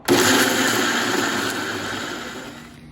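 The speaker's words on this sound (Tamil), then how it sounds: "இப்போ மிக்சியில் அரைச்சிக்க போகிறோம்" A mixer grinder whirs as it grinds kozhukattai batter, a loud steady motor drone that starts abruptly and slowly tapers over a few seconds, heard on its own.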